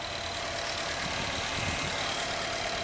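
A 2017 Honda City with a 1,500 cc engine and sound-insulated engine bay idles just after starting: a steady, smooth, fairly quiet hum with a faint hiss, continuous and unchanging throughout.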